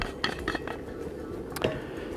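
A lid is set onto a pot on a camp stove while karak chai is being made outdoors in the African bush, giving a few brief metallic clinks and clanks close by over a low steady background.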